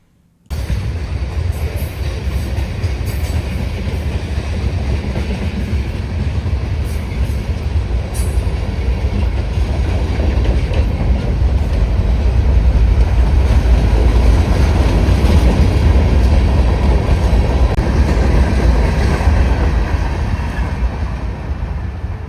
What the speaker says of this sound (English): I do have the videos of the train clearing over the lake.